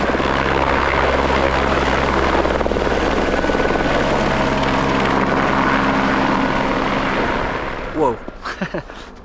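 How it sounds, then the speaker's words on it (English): Helicopter lifting off from a snow-covered helipad at a mountain base camp in Nepal, a loud, close, steady rotor roar that fades and ends in a few gusty thumps. "helicopter leaving up and close"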